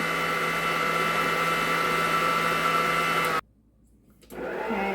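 An electric mixer whirs loudly and steadily through strawberry cheesecake batter, a constant motor hum that abruptly cuts out, pauses briefly, then starts up again.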